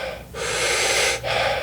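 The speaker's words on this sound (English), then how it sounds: "It was a lot of like deep breathing" Deep, full breathing: a long forceful breath drawn in, a brief pause, then a strong breath out, close and loud with no talking.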